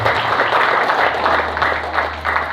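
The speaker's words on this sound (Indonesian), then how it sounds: "tepuk tangan yang meriah untuk Bapak Haji" Audience applause at an Indonesian gathering welcoming a guest speaker: a steady wash of many hands clapping at moderate loudness, with a low hum underneath and no clear talk over it.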